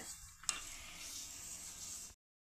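Oil spreads across a hot tawa heated for cabbage thalipeeth, giving a faint, even sizzle that holds steady after a sharp tick at the start and then stops abruptly.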